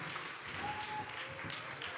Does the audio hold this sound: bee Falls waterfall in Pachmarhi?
no